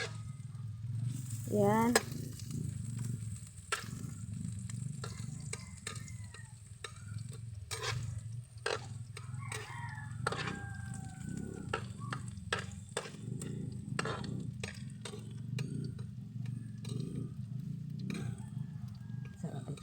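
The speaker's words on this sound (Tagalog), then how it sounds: "Lalagay ko ng bawang sibuyas para dali po." Garlic and onion fry in a pan with a steady, close sizzle, stirred with repeated sharp scrapes and taps while a person talks over the cooking.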